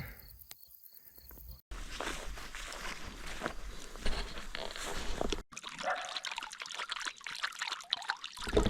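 Water runs steadily into a livestock watering trough on a mountain pasture in the Carpathians, a close continuous trickle and splash that shifts in tone partway through, preceded by a brief quieter moment.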